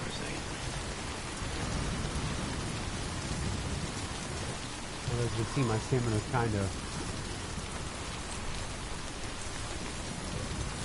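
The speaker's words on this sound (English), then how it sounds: "I'll just sit here in the rain." Steady heavy rain falls throughout a rainy Death Stranding game scene, with someone talking over it and a brief tonal game sound in the middle; no distinct thunder clap stands out.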